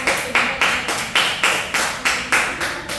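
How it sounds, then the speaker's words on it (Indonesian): A small group claps for students in a classroom, a steady run of about a dozen sharp, close claps at an even rhythm, with no voices. "Tepuk tangan buat Atika deh."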